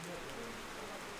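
Heavy, pounding rain over the small village of Elumu in the Democratic Republic of the Congo, a steady dense hiss throughout, with faint bird sounds.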